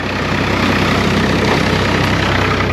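Tractor engine idling steadily and loud right after its wheels are fitted for ploughing, a continuous low rumble with no talk over it.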